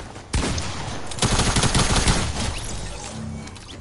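Double-barrel shotgun blasts in the video game Fortnite, a sharp shot followed by a second burst of loud gunfire and a trailing rumble of game noise, no speech.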